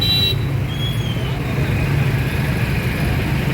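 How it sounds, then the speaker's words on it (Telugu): A car drives around the Anantapur tower clock, its steady low engine and road rumble continuous and fairly close, with faint traffic noise in the background and no talk. "మా అనంతపురం టవర్ క్లాక్ చుట్టూ తిరుగుతుంది కారు"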